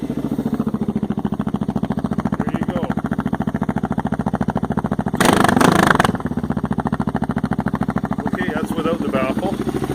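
An off-road motorcycle engine runs with its exhaust baffle removed, giving a rapid, steady, throbbing idle that is briefly revved to a louder, rougher burst midway before settling back.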